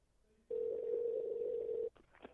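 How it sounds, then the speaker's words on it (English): A single steady telephone tone sounds for about a second and a half, loud and close, cutting off abruptly, followed by faint clicks. "Pick up the phone."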